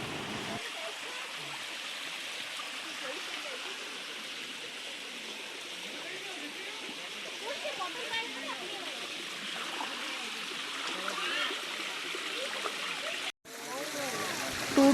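A small waterfall with a low trickle of water on a hillside hike in Pavagadh gives a steady, soft rush throughout, with faint voices talking over it.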